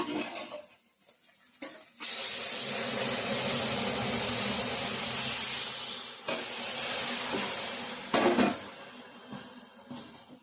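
Bay leaf, onion and panch phoron frying in hot oil as a tempering for masoor dal with mango, a loud steady sizzle that starts abruptly, with occasional clatters of a spoon against the pan.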